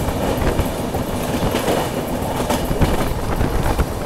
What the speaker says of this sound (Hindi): राजधानी एक्सप्रेस।